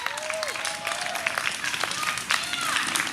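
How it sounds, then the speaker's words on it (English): A rally audience gives itself a round of applause, a dense patter of clapping at moderate distance with thin whistles and cheers threaded through it. "Give yourself a round of applause for that."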